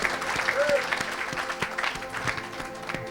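Church congregation clapping at a French-speaking evangelical service, a loud, rhythmic run of claps at a steady beat, with a voice speaking over it.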